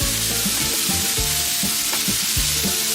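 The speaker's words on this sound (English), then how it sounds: "we have our veggies, and they're really making beautiful sounds over here" Vegetables sizzle loudly and steadily on a grill at close range, with a constant bright hiss and no voices.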